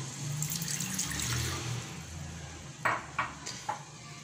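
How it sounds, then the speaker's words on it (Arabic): A glass of water pours steadily into a metal saucepan for a couple of seconds, followed by a few short clinks and splashes, close and clear without speech. "ناخذوا واحد كاس ديال الماء، غنعملوه في واحد الكاسرونه"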